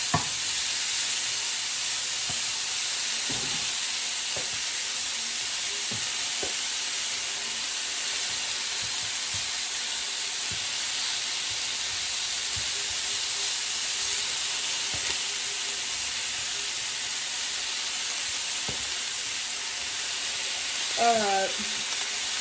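Chicken pieces for a Thai red curry sizzle steadily in a pan with vegetables, a constant close frying hiss with occasional stirring clicks and a brief spatter near the end, no talking.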